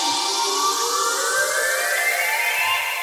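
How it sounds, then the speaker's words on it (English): A synth riser built from processed water samples, for a color bass build-up, sweeps steadily upward in pitch as a continuous, bright, airy whoosh, loud and alone for about three seconds. "which is a riser made out of those water samples"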